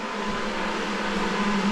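An electric fan running steadily nearby during tiling work, a constant broadband whoosh with a low hum, unchanging and alone for under two seconds.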